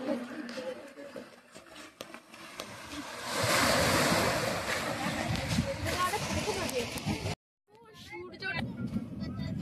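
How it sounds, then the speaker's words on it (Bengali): Ocean waves at Digha beach roar and wash ashore in a broad, rushing surge, with wind buffeting and people talking nearby; the sound briefly cuts out near the end. "কি দারুণ এখানে ঢেউটা"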